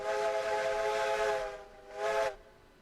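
In the Railroads Online video game, a steam locomotive's whistle blows one long, loud, reedy blast, then a short second toot after a brief pause, with faint hiss behind.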